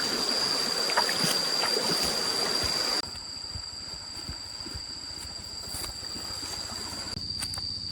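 A snail-filled forest stream flows with a steady, close hiss and trickle. The sound is louder for the first few seconds, then drops to a softer, even babble.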